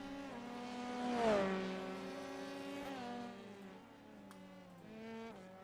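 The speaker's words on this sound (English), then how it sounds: "If you can hear a revving engine sound in the background" A car revving its engine while doing donuts outside a building, heard from indoors in the background: a drawn-out, rising and falling engine whine that swells midway and then settles, with no talk over it.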